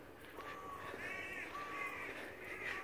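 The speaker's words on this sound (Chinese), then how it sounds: "听到鸟叫了吗" Crows caw repeatedly in the open air over a wide morning pasture, the harsh calls rising and falling against a steady background hiss of outdoor ambience.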